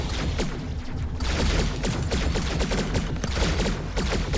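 Sustained bombardment gunfire in the space strategy game Deep Space Directive: a dense, continuous barrage of overlapping shots and impacts at steady loudness, with no talking.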